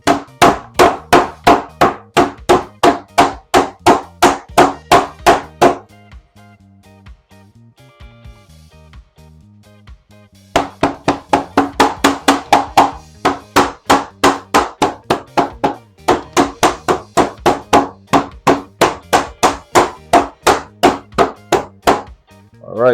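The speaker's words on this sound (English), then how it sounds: "Now we're just gonna hammer it down as flat as possible." Steady, rapid hammer blows pound conch flat under plastic wrap in long runs, loud and close, stopping for a few seconds midway before resuming at the same brisk pace.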